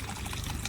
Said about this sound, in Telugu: మళ్ళీ ఇంకోసారి వాటర్ వేసుకుంటున్నాం